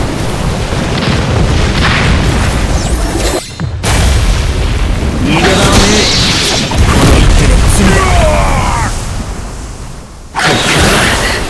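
Heavy, booming blasts from a concentrated, repeated explosion attack in the mobile game Naruto Online, loud and dense with rumbling crashes, a short drop to near silence partway through and game voices mixed in.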